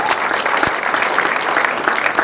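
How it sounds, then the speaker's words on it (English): At a ruracio, a traditional engagement ceremony in Embu, Kenya, a gathered crowd gives a loud, sustained round of applause. Scattered sharper claps stand out over the continuous roar. "Can you give him a round of applause?"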